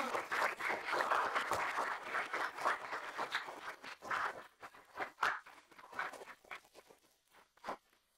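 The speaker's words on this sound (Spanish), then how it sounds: "Por favor, un aplauso para Laia." Audience applause for a contestant after a cooking competition result, a burst of clapping that thins into scattered claps and fades out.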